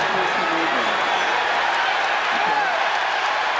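Basketball arena crowd at a 1996 NBA game cheering a player's return, a steady broad roar of many voices and applause filling the whole stretch at close, even loudness.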